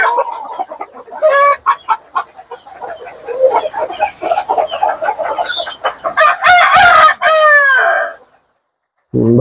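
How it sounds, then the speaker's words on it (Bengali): Hens on a poultry farm keep up a close, rapid clucking, and roosters let out several loud crows before the sound stops abruptly near the end. "এই দেন ফিল্ড ব্যাগের মুরগিগুলো, মাশাআল্লাহ সবগুলো আমার খামারের মুরগি।"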